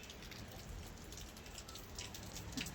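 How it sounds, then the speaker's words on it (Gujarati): Heavy monsoon rain in Mehsana falls steadily as a dense, even hiss of drops on surfaces, with a few closer individual drips, continuous and quiet in level with no voices. "જો વરસાદ પલળી જવાય."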